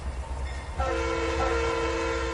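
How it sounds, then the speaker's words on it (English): A CSX locomotive horn in the Trainz 2019 railroad simulator sounds a sustained, chord-like blast over a low rumbling engine, loud and near, with no talking. "We're to give him the CSX honk. Two shorts, a long, and two shorts."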